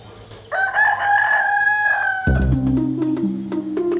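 A rooster lets out one long, loud crow close by, followed by a string of short, rhythmic clucks from chickens.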